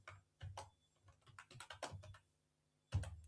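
Quiet, close typing on a computer keyboard in short bursts of rapid key clicks separated by brief pauses, ending with a firmer pair of keystrokes.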